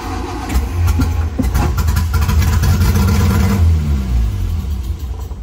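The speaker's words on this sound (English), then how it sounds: "Then I'll pull the starter cable." Barn Sprite car engine cranking and catching after its starter cable is pulled, a loud close rumble that rises and settles into a rough, uneven idle.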